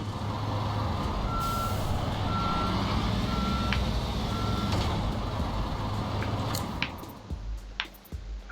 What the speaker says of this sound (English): Might actually move that truck back a bit